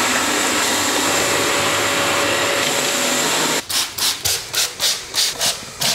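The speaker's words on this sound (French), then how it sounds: "Allez, aspirateur." A vacuum cleaner drones loudly and steadily while a wall is prepared before an electrical panel is installed, then switches to a rhythmic surging whoosh as the nozzle is pushed back and forth.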